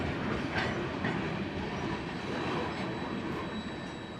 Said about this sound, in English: These trains can be over a mile long, and all there is to do is to wait patiently and count the number of wagons.